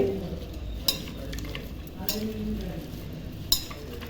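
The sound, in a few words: stirring cabbage with masala in a pan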